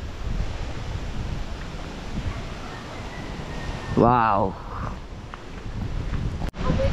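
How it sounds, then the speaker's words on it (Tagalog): Strong wind over a lake on a rainy day buffets the microphone in a steady broadband roar, with a person exclaiming briefly partway through. "Lakas ng hangin."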